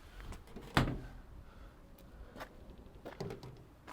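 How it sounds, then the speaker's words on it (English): Rear doors of a 2016 Ford Transit Custom van being swung open, with a sharp latch clunk followed by softer knocks and rattles of the doors moving, fairly close and without talk. "Doors also come off like so and open to 180 degrees."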